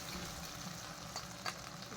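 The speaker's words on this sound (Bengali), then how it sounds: "এখন আমি পেঁয়াজ টমেটো কাঁচা লঙ্কা ভালো করে একটু ভেজে নেবো লাল লাল করে" Onion, tomato and green chili fry in a pan with a faint, continuous sizzle, broken by a few soft stirring scrapes.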